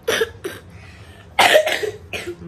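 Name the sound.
child coughing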